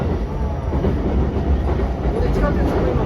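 A Saikyo Line E233 series 7000 train on the rapid service between Toda-koen and Akabane gives off a steady, loud rumble of wheels and motors from inside the car, with people talking faintly under the noise.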